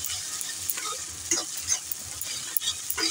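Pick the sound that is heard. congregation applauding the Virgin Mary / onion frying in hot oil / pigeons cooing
onion frying in hot oil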